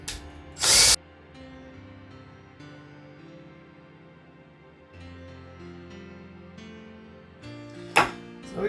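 Power drill boring holes through both sides of a bamboo tube for a wind chime, a steady whirring hum with sharp loud bursts of bit biting through at the start and end.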